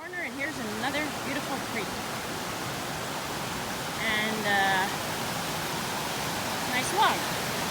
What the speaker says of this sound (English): here's another beautiful creek